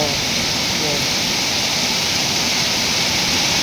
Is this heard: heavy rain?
yes